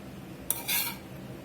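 A knife slicing French onion style meatloaf at home, a sharp click of metal on plate followed by a brief scraping cut, close and quiet with no talk.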